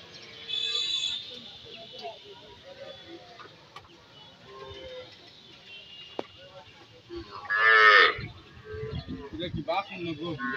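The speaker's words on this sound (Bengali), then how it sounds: "কীভাবে গাড়িতে গরুগুলো উঠানো হয়" Cattle are loaded onto a pickup van at a large cattle market. A cow moos loudly at close range amid handling noise and clattering, and people talk throughout.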